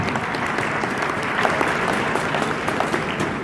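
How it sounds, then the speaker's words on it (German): Large audience at a Holiday Park opening event applauding steadily and loudly, a dense, sustained wash of many hands clapping with no voices on top, like a big crowd in an amusement park venue. "Und nochmal einen riesengroßen Applaus, bitteschön, für Herrn Michel Mack von Mack Rides und Herrn Massin von Zamperla."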